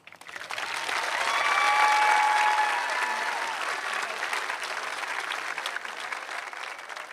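Sustained applause from a sizable high school graduation crowd swells quickly, peaks, then continues steadily at a slightly lower level, with faint voices and cheers mixed in.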